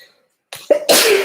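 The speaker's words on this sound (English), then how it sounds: "I'm gonna sneeze." A single sneeze bursts out close and loud after a short quiet wind-up of breathy intakes, ending in a broad, noisy blast.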